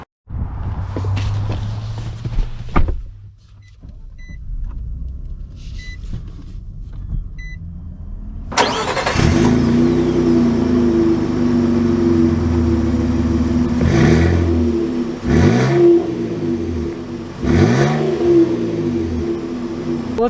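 Modified 2022 Nissan Frontier SV pickup starting up and pulling away, its engine droning steadily and swelling in several revving surges as it accelerates, heard from inside the cab.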